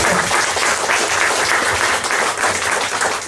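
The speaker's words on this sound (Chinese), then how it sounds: "你们需要给你们自己一个掌声" Audience applause fills the room at a business talk in Rochor Centre, dense, steady clapping close by, loud and sustained throughout with no talk over it.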